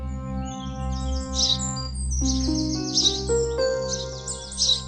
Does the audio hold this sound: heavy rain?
no